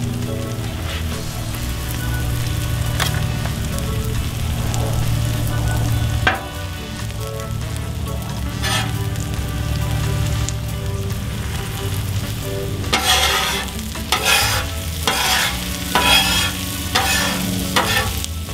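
Cheese quesadilla frying in a pan, a steady close sizzle with crackling bursts that grow busier toward the end, no talking.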